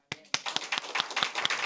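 Church congregation at a Sunday worship service breaking into applause, opening with a few sharp separate claps that quickly build into a steady, fairly close round of clapping.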